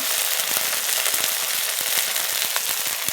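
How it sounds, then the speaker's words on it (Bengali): Chopped tomatoes hit hot frying spices in a pan, producing a loud, dense sizzle with sharp crackling pops scattered throughout, close up and without speech. "তো এবারে এতে দিয়ে দেবো টমেটোর কুচি, দিয়ে দিচ্ছি টমেটোর কুচি"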